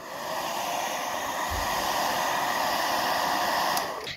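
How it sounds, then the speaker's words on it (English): Hair dryer blowing in the game Help Wanted 2, a steady airy rushing whir that starts up, holds for about four seconds and cuts off, close and alone with no talk. "this is literally a hair dryer"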